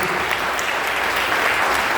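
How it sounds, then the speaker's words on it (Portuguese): Sustained, loud applause from a church audience, many hands clapping together in a continuous dense roar. "Vamos aplaudir o Senhor Jesus."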